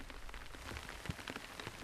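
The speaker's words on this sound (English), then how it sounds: "And then it starts to rain." Steady rain patters on surfaces in the open American West, a faint, even spread of drops with no voices.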